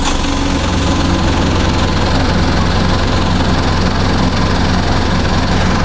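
A Mitsubishi Fuso diesel commercial truck engine runs at a steady idle, a loud continuous low rumble and rattle close by with no break.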